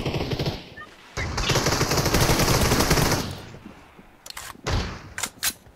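Rapid automatic gunfire bursts from a PUBG Mobile match, with a long sustained volley followed by shorter sharp shots, loud and close.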